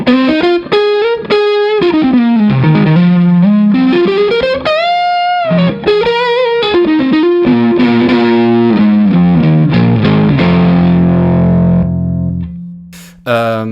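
Electric guitar through a boosted JAM Pedals Double Dreamer overdrive, neck pickup tone: sustained singing lead notes and bends, warm and loud, ending with a few fading chords.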